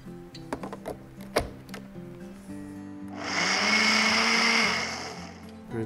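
A blender whirs loudly for about three seconds as a smoothie gets a quick mix, coming in after a few clicks and light knocks over soft background music.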